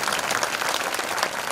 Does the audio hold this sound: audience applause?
yes